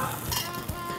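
Spätzle sizzling and frying in a hot pan while being stirred, a steady close hiss with a soft scrape from the stirring partway through.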